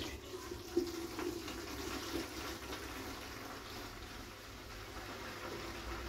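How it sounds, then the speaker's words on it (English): Mixed liquid lawn treatment poured from a bucket makes a faint, steady trickle and splash with no voices over it. "all I'm going to do is just pour it in."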